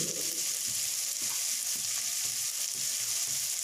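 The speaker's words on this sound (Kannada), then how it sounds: "ಈರುಳ್ಳಿ ಮತ್ತು ಟೊಮೆಟೊ ಗೋಲ್ಡನ್ ಕಲರ್ ಆಗೋವರೆಗೂ ಫ್ರೈ ಮಾಡ್ಕೊಳ್ಳಿ" Onion and tomato fry in a pan, with a bright, continuous sizzle and spatter close by and soft stirring knocks of a spoon at intervals.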